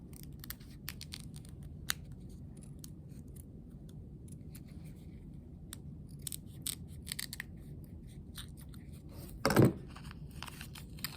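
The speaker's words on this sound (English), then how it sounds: "I'm going to cut it out." Scissors snipping through felt while cutting out a small elf hat shape for a craft, soft intermittent close snips and rustles over a quiet room, with one louder crunch near the end.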